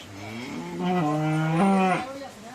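A cow on a farm at night gives one long, loud, drawn-out moo close by, rising and holding before fading, with no talk over it.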